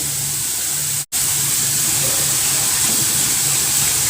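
A steady, loud hiss of kue akar pinang dough frying in hot oil continues throughout, broken once by a sudden brief dropout.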